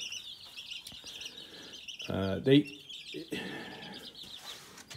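Young chickens from two combined flocks peep and chirp in a coop, a busy stream of high, thin calls throughout, with a brief louder cluck or flutter near the middle and a voice faintly in the background.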